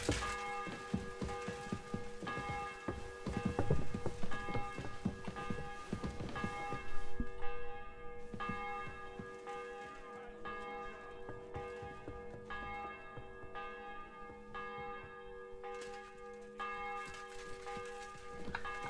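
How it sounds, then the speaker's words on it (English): A church bell tolling in the video game Kingdom Come: Deliverance II, ringing in a steady repeated rhythm with long sustained tones, clear and moderately loud over a busy background of other game sounds, with no talking. "The bell's ringing for Hans the 5th time."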